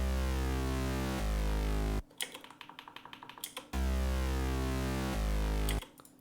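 A future bass synth run through the Camel Crusher distortion plugin plays thick, buzzy sustained chords in two long bursts, separated by a stretch of quiet clicky tapping.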